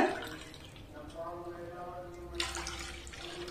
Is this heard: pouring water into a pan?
yes